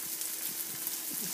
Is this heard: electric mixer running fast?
no